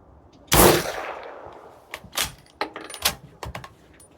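A suppressed .338 ARC bolt-action pistol fires a single sharp, heavy shot that rings off briefly, followed by several lighter metallic clicks and clacks of the bolt being worked.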